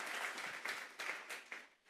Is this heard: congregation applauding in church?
yes